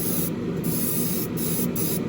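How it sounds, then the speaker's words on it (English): Continuous hiss of metal flake paint sprayed onto a model car body for an AMT 1967 Impala street machine kit, a steady loud rush that briefly thins in short gaps, heard close with nothing else over it. "They mix very consistently, they spray very consistently, and they spray very easily."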